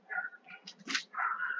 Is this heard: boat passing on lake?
no